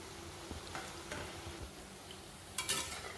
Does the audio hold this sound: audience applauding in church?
no